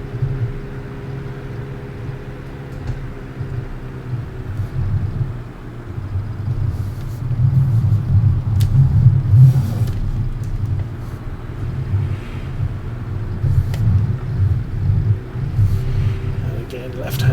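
Trucks with big engines driving in Farming Simulator 17, a steady low engine rumble that swells and eases across the stretch, with someone talking over it.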